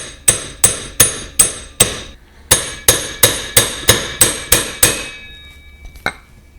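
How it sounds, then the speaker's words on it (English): About twelve sharp metallic hammer taps ring out in an even rhythm, close and loud, as a light hammer and 32mm tool drive a wheel bearing seal into a Yamaha FJR1300 front wheel, then stop, followed by one lighter knock. "I'm going to use the same 32mm with a lighter hammer and just slowly tap it in straight"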